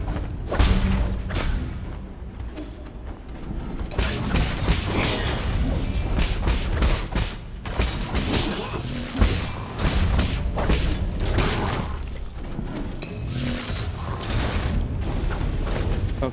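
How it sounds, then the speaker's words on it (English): A forge in the video game Nine Sols blasts fire in heavy rumbling booms and thuds with whooshing bursts, loud and continuous throughout, with no talking. "wait for the fire to pass."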